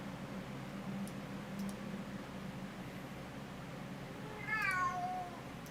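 A single cat meow, soft and distant, sounds near the end over a steady hiss of background noise.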